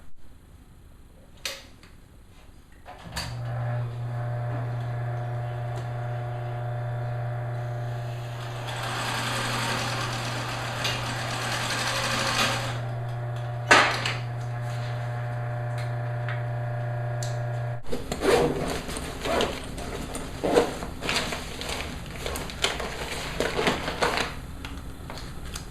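A sewing machine stitching loops onto a fabric edge for a MOLLE bottle holder runs in a steady, near mechanical whir for about fifteen seconds, then stops, followed by scattered clicks and fabric handling sounds.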